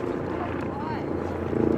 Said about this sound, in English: I can't tell if that's a news chopper or not.